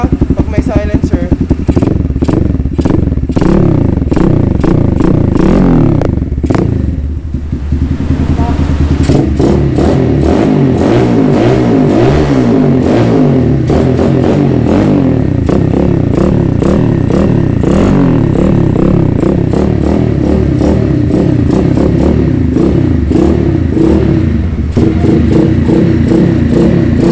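Single-cylinder motorcycle with an aftermarket exhaust and silencer fitted, revving loudly and repeatedly up close for nearly half a minute, with rough, throaty pulses and clattery mechanical noise. Voices can be heard faintly at times.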